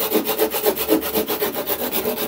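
Wood sanded by hand with coarse 36-grit sandpaper in a carpentry workshop, a loud, close rhythmic rasping of steady back-and-forth strokes, roughly four per second, with no talking.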